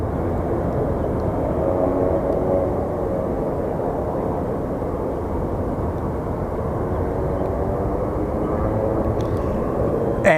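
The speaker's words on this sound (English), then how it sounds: "we do have a King Air departing" A King Air turboprop departing from Phoenix Sky Harbor Airport, a continuous mid-distance engine drone and propeller roar holding steady throughout, with a faint click near the end and no talking.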